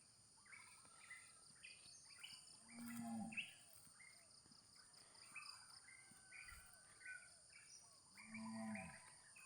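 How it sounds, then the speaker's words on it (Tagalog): A cow on a Palawan farm moos over and over as it calls its calf, two low drawn-out lows some distance away, with insects chirping steadily underneath. "walang tigil yung baka kakatawag ng anak niya."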